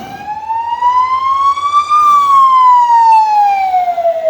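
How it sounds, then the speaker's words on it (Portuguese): Ambulance siren wailing as it passes on the road during a motorcycle ride, one loud continuous tone sweeping up then falling over about four seconds with no talk. "Aqui uma ambulância, arrastar-nos para o lado."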